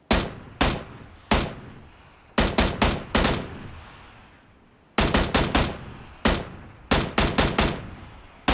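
Loud gunshots from PUBG on Xbox One X crack out alone in sharp single and clustered bursts, each snapping in hard and fading quickly, separated by short quiet gaps.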